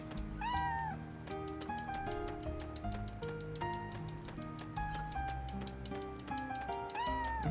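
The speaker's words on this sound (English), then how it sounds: "Cute kitties." Cat meows from the Chrono Cross video game, two bright rising-falling mews near the start and end, heard over steady ticking game music with a continuous melodic backing.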